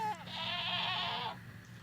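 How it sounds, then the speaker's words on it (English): A goat in the Minecraft video game gives one drawn-out bleat lasting over a second, loud and close, with a faint background hum and no talking. "Somebody has a normal goat sound"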